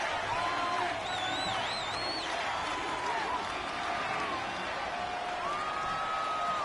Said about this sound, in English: The crowd's not doing that O-line any favors. Home field advantage is really kicking in, making it very difficult for them to hear the snap count.